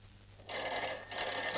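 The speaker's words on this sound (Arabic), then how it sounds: "محدش يرد على التليفون." A telephone rings with a bright electric bell, two bursts separated by a short gap, loud and close in an indoor scene with no talking.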